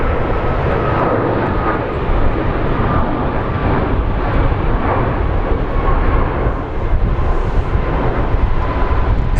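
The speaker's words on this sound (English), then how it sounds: "That is a steep takeoff for the American Airlines plane." An American Airlines plane taking off steeply at Phoenix Sky Harbor International Airport gives a loud, sustained engine roar with a steady rumbling wash.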